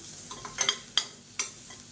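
Grated coconut dry roasts in a pan for paruppu podi. A faint background hiss runs under a few sharp, close scrapes and taps of a spatula stirring it, spaced irregularly, with no talk.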